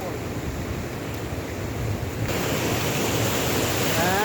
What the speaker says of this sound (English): And that looks like a waterfall.